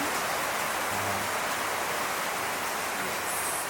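Steady rain falls in the Cuban countryside at Viñales, a dense, even hiss with no pauses and no voices.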